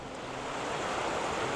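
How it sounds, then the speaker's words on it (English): Rushing water of the Reedy River at Falls Park in Greenville, South Carolina, a steady close-up broadband wash with no breaks and no voices. "I've got the water right here by me"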